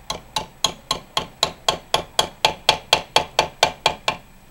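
Sharp, evenly spaced hammer blows on a chisel driven into the seam of a 1994–2003 Powerstroke turbo case, about fourteen loud metallic strikes in quick regular rhythm, close by with no talking.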